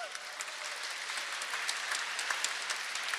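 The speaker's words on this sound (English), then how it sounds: "Let's all give them a big round of applause." Audience applauding performers at a dance show, a continuous even wash of clapping from a sizable crowd, moderately distant.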